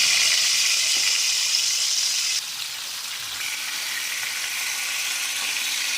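Flour-coated milkfish (bangus) frying in hot oil, a steady loud hiss and crackle that drops slightly in level partway through and then carries on evenly, with no voices.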